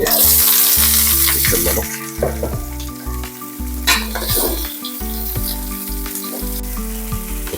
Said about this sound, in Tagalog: Igisa lang po natin yung ating